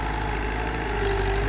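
A farm tractor pulling a five-furrow plough runs with a steady, close engine drone and a faint whining tone, with no other sounds breaking in.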